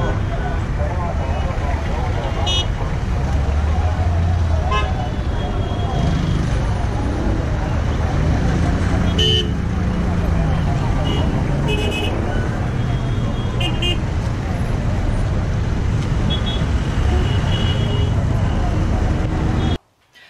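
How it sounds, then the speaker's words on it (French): Car horns toot in short bursts at intervals over dense, steady street traffic in Peru, with engines rumbling close by and a voice speaking over the roadway noise. "ils klaxonnent à l'approche d'une intersection ou pour prévenir les piétons de leur arrivée"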